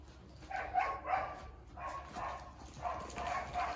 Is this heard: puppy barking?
yes